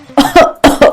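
A man coughs four times at close range in two quick pairs, loud, harsh and chesty, with no other voices.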